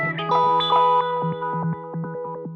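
A GFI System Synesthesia effects pedal running heavily filtered, modulated tones, with warbling, sweeping pitches and stuttering chorus-like textures that play alone for a few seconds.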